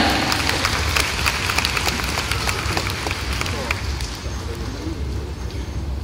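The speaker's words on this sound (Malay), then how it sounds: "Berikan tepukan kepada upline-upline kita." An audience at a stage talk applauds together in a thick, continuous wash of clapping and crowd murmur that gradually softens toward the end.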